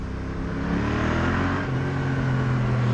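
Yamaha XSR700 motorcycle with a twin-cylinder engine pulling under a light throttle, a steady mid-pitched engine drone with a gently rising tone, heard from the rider's position with wind noise and no talk.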